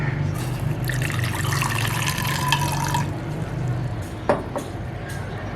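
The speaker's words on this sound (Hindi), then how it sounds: "1 कप पानी ऐड कर दूँगी।" One cup of water pours in a steady stream for a few seconds into a metal pan for jalebi syrup, then stops, followed by a couple of light clinks and drips.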